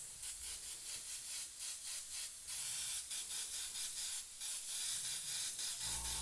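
Airbrush spraying pink paint for a realistic fire and skull custom design, a steady hissing spray in repeated short bursts of roughly half a second, close and fairly loud, with a brief low knock at the end.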